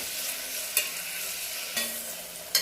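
Chopped tomatoes frying in a pan, with a soft continuous sizzle and three distinct clinks of a spoon stirring at regular intervals.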